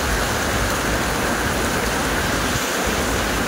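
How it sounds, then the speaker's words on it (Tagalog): Heavy, relentless rain pours down steadily, a dense unbroken hiss filling the space from start to finish with no voices. "lumalakas lalo ang ulan"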